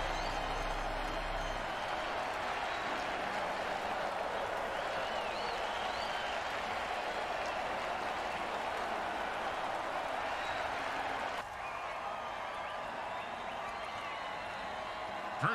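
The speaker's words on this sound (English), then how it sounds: "Oh, crowd's loving it." Crowd noise in an American football video game: a dense, steady roar of cheering and applause runs the whole time at constant loudness, dipping slightly near the end.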